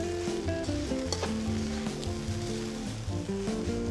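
Sambal brown rice is tossed and fried in a GreenPan with a steady, close sizzle and soft stirring scrapes running throughout, no voices present.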